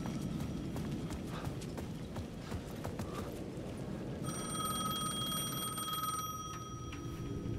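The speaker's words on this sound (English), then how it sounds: "The payphone at the edge of the plaza was ringing again." A payphone rings at the edge of a plaza in Alan Wake II, its steady bell tone setting in partway through over a continuous rumble of footsteps and ambient game sound.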